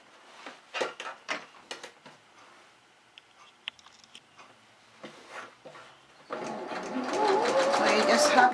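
A sewing machine runs in a steady, fast whir as it stitches a gathered seam on a rice pot bonnet, starting after a stretch of soft handling noises and quiet talk.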